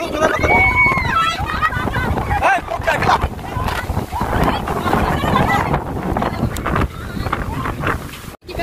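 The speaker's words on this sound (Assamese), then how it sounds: "ইফালে বৰষুণ ইফালে বতাহ" A wind and rain storm sweeps an open field, loud gusting rumble and hiss buffeting the microphone while people talk over it, with a brief high whistling tone early on.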